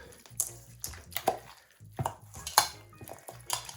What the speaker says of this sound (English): so I'm gonna put a little in my thing. You're gonna stir it around